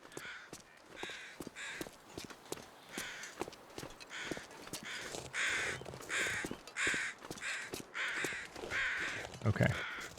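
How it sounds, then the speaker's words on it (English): Crows caw repeatedly in The Long Dark, a string of harsh, evenly spaced calls at moderate loudness, with a steady game ambience running beneath and sharp clicks scattered throughout. "For a second, it looked like those crows were diving straight toward me."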